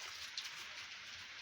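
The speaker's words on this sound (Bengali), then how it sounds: "এই যে হঠাৎ করে আবহাওয়া খারাপ, বৃষ্টি পড়তেছে বাইরে, গুড়ি বৃষ্টি পড়তেছে" Light drizzle falls outdoors on a rainy day, a faint, steady hiss of fine raindrops with one small tap near the start.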